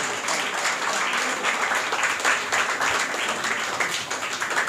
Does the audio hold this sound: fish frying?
no